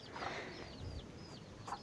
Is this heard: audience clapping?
no